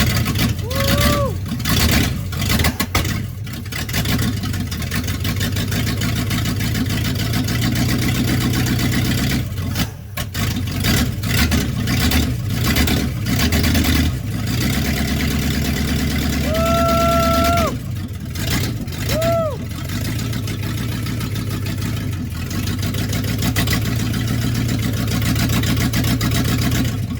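Engine of an old project truck running roughly after sitting for over 30 years, a loud continuous uneven rumble with brief dips and stumbles, while people talk and cheer over it throughout.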